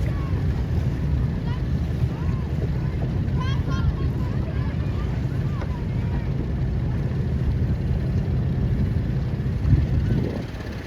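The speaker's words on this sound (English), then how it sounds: "We finally have wind" Steady wind roars across the microphone at a Sabot dinghy sailing race on open water, a continuous loud rush with waves and faint boat noise mixed underneath.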